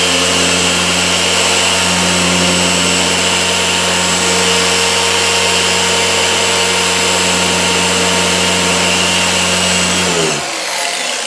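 A 6-inch dual action car polisher running over a curved panel with only its own weight on it, a steady loud electric whine and hum that holds constant, then cuts off at the end.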